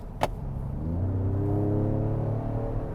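A 2025 Ford Explorer ST's 3-liter EcoBoost V6 engine with a 10-speed automatic rumbles and rises in pitch as it accelerates, with a short click near the start; steady, fairly close, no voices.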